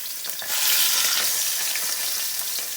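Chicken pieces frying in canola oil in a pot for cacciatore, a loud, dense, close sizzle that swells after a brief moment and then holds steady, with no voices.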